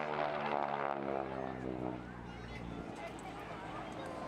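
A Canadian Car & Foundry-built Harvard 4 aircraft's piston engine runs with a steady droning, harmonic hum that fades slightly and stays fairly faint and distant throughout.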